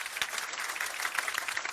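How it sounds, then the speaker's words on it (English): Audience at a digital marketing bootcamp claps in a brief, fairly faint burst of applause, a steady patter of many hands with no voices over it. "Give him a round of applause, guys."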